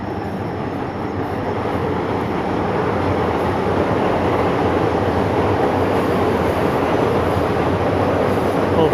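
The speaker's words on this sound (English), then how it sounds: "It's a very noisy train." A noisy train in Tokyo rumbles loudly and steadily close by, a continuous roar of wheels on rails that grows slightly louder partway through.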